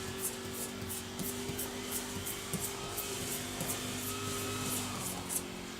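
A neighbor's lawn mower drones faintly in the distance, a steady low hum under light scraping and tapping from overspray repair on a Yamaha 242 boat's gel coat.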